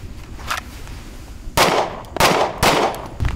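Gunfire during a shooting range drill: several sharp, loud reports in quick succession after a softer distant shot, each with a brief echoing decay.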